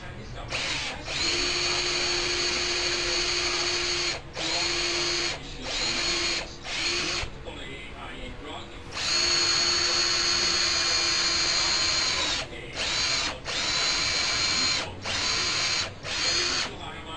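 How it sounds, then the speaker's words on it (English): A power drill bores a cross hole through wood for a DIY bed frame, running in loud bursts with short pauses and speed changes between them, close to the listener. "now I'm going to drill the cross hole that I can't come out of the other side"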